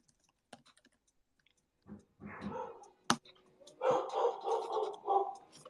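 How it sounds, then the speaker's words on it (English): A dog barks in a home as someone comes to the door, giving a few sharp yaps, then a run of loud, close, excited barking and whining. "The dog is going nuts."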